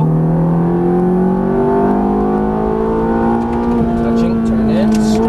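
A Ferrari F430 engine accelerating on a race track, its loud, steady note climbing smoothly in pitch as the throttle is squeezed on and held for several seconds.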